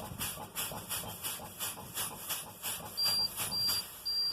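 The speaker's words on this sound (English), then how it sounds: "I'm going to pump my service brake to drop the air." Air hisses from a truck's brake system in short bursts as the service brake is pumped repeatedly inside the cab, with rhythmic pulses and a thin electronic beeping tone joining toward the end.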